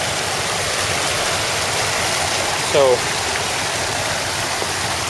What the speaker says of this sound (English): see this water running across this property right here?